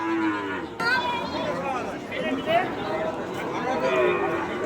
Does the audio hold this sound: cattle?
yes